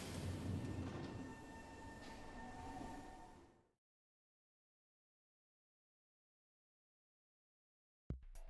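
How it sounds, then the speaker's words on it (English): Subway train ride in the video game Splatoon 2, a steady rumbling rail hum with a faint squealing tone for about four seconds, then silence before a short burst of sound at the end. "we got a subway train to ride"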